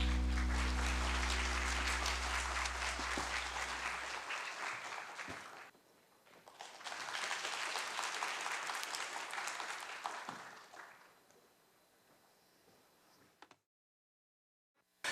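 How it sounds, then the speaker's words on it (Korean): Applause from a lecture-hall audience welcoming the engineering dean at Korea University's College of Engineering 60th anniversary special lecture: a long, steady wash of clapping, a brief lull, then a second sustained burst that stops abruptly. "큰 박수로 맞이해 주시기 바랍니다."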